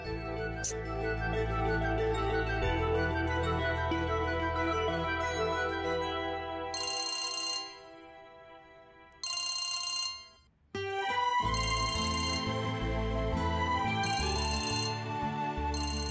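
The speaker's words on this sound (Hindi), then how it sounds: "देखो पप्पी लीसा का फोन आया" A telephone rings in a household, repeated electronic ring bursts, loud and close, first over background music and then alone in separate bursts with short pauses between them.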